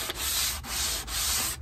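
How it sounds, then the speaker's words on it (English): Hand sanding along the rough edges of a wooden wardrobe panel for a camper van, close and loud, with four rhythmic rasping strokes in a row. "We're not doing that much sanding"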